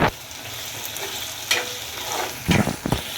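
Onions frying in a pan for a quick Marathi pea and potato curry, a steady sizzle with spoon-stirring scrapes and a few louder clatters near the end.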